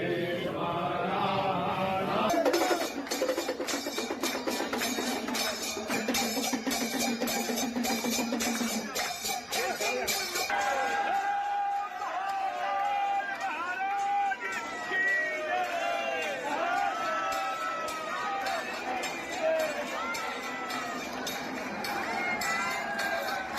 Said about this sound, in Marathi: हा सण साजरा करण्यासाठी भाविकांनी मोठी गर्दी केली आहे